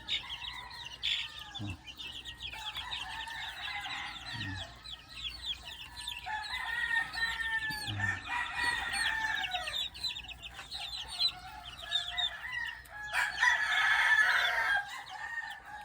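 Chicks about one month old peep and chirp steadily at close range, with some clucking among them and a few brief low knocks in the background.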